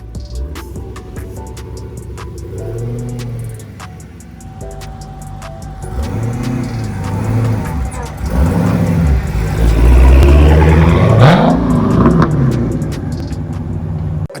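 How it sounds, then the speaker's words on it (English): A car with a burnt-up clutch revs hard at a car meet, its engine climbing and falling in loud repeated sweeps that build toward the end, with music playing alongside. "Well, you won't stall if you're revving it that high."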